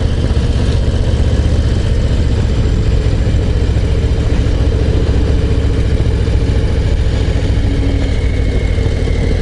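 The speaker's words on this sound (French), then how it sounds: "En tirant pas trop sur le moteur, puisque je suis en rodage" An engine being run in gently climbs a mountain pass road, giving a loud, steady mid-pitched drone with slight rises in revs throughout and no talk.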